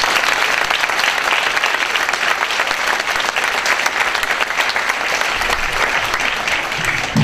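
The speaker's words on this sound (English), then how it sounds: "so please give him thunderous applause" Loud, sustained applause fills a high school auditorium during a winter concert, a thick continuous roar of many hands clapping from a large audience, steady and unbroken to the end.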